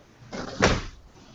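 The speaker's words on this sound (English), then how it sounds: "Let me close my door because there is lots of noise." A door swings shut nearby in a noisy home, one soft sweep followed by a firm thud, then quiet room tone.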